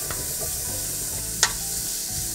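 Onion and bacon sizzle steadily while being stirred in a pot for a winter sausage soup, with a continuous frying hiss, soft scraping stirs and one brief sharp clink midway, no talking.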